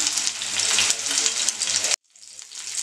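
Tuna steaks fry in a pan with curry leaves, crackling in a loud, busy sizzle that cuts off abruptly, then returns as a quieter, softer hiss.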